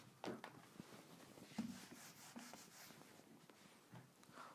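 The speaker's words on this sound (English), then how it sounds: "So first let me rub this off." Writing being rubbed off a classroom board, soft irregular scrubbing and rubbing strokes with small knocks, faint and close.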